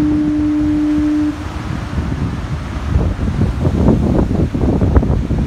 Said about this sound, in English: I mean, hear this foghorn.